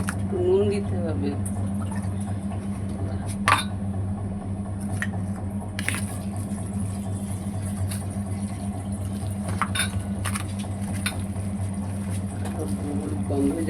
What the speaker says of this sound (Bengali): না, হাত দিয়েই মাখি আমি